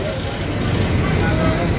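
A large intercity bus running from Surabaya toward Ponorogo pulls in at night, its engine a loud, steady low rumble close by, with a busy crowd of passengers around.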